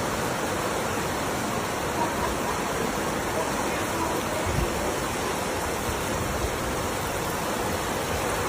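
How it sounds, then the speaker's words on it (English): Heavy cyclone rain from Cyclone Fina pours in a steady, dense roar that stays loud and unbroken throughout, with no voices heard. "Insane rain is expected to continue for another 24 hours."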